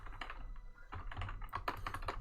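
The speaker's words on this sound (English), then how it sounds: "I'm typing this down." Quiet, steady clatter of fingers typing on a computer keyboard, rapid uneven keystrokes close to the microphone, heard alone without speech.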